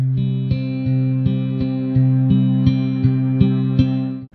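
Ambient cinematic guitar from a Kontakt Player library with transient emphasis boosted, repeating a steady low note pattern about every third of a second, each note opening with a sharp, clicky attack over a sustained, chorus-tinged tone, heard alone.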